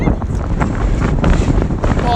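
Strong gusts of wind buffet the microphone at an outdoor lacrosse game, a steady loud rumbling roar that persists throughout with surges in intensity.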